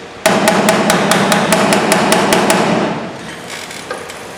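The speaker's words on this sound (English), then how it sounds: "Tap around the high areas." A hammer taps the high spots on a car body panel in a fast, even run of about a dozen sharp, loud metallic strikes close by. Quiet shop ambience follows.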